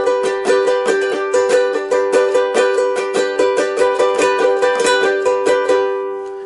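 A ukulele strummed close and loud in a steady rhythm of quick repeated strokes, some with rolling fanned attacks, ending on a ringing chord.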